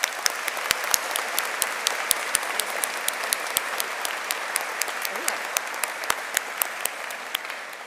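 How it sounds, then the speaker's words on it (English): A graduation audience at a high school commencement applauds the school counselors, a steady wash of clapping with distinct sharp individual claps popping out close by throughout. "Let's give them all a round of applause."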